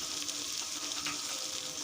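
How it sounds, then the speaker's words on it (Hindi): Water is poured into a cooking pot of chicken for a Pakistani aloo chicken dish, giving a steady hissing, sizzling splash that runs close and continuous throughout. "तो अब चलते इसे पानी ऐड करते हैं हल्का सा"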